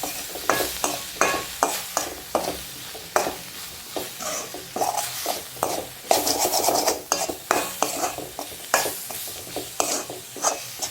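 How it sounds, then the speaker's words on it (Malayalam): Garlic being stirred in a pan over a low flame, a steady run of scraping strokes against the metal with a soft sizzle underneath, close and fairly quiet with no talking. "ഇനി നമുക്ക് ലോ ഫ്ലെയിമിൽ വെച്ചിട്ട് വേണം ഇളക്കി കൊടുക്കാൻ."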